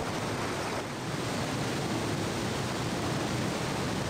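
Steady broadband rush of river water around a leaking raft in the Indiana Jones and the Infernal Machine video game, a constant loud wash like surf with no voices.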